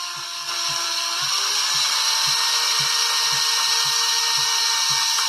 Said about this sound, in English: I just need to drill a hole into the arm sockets.